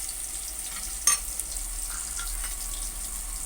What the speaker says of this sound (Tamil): இது எல்லாத்தையும் சேர்த்து நல்லா வதக்கி விடுங்க.